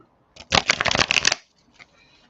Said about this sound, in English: Does it want to actually see me shuffle?